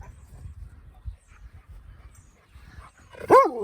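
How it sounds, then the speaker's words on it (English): A dog gives a single sharp bark near the end, after a stretch of quiet low rumbling outdoors in a garden yard. "Here come the dogs."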